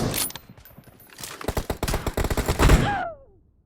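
Rapid automatic gunfire from a mobile team deathmatch shooter game played on an iPhone 6 Plus, a dense burst of shots building in intensity before a brief whooshing fade.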